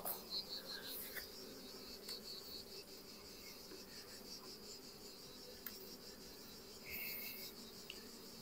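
Honeybees hum in a steady, faint drone at a hive while a new swarm is being split off, with occasional brief knocks and rustles over the continuous buzz.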